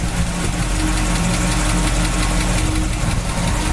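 1963 Chevy Impala with a 283 four-barrel V8, Edelbrock carburetor and aftermarket intake, idling close up with a steady loud low rumble and an even pulsing lope.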